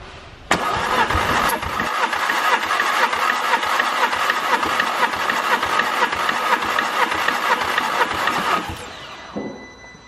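A four-cylinder car engine cranks steadily on the starter for about eight seconds during a cylinder compression test, a loud, even rhythmic churning that starts abruptly and stops near the end.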